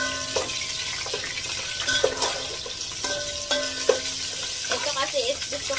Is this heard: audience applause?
no